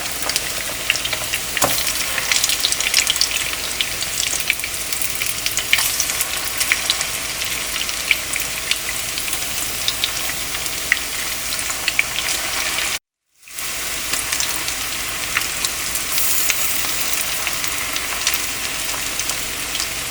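Chicken shami kebabs fry in a pan over medium-high heat, giving a steady, dense sizzle and crackle that continues throughout with only a momentary break.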